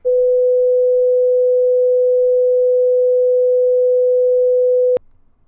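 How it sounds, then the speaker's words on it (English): A steady, pure sine tone holds at one pitch for about five seconds, then cuts off abruptly, leaving brief faint low noise. "Here's an example of a periodic wave."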